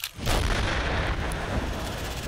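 A single powerful sniper rifle shot with a deep boom that rolls on into a long echoing rumble, heard alone.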